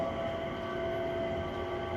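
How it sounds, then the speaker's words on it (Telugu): A driverless automatic airport train hums along in a steady, close, even drone with a sustained tonal whine and no breaks or voices. "సో ఎయిర్పోర్ట్లోనే దిస్ ట్రైన్ మంచిగా ఉంది కదా"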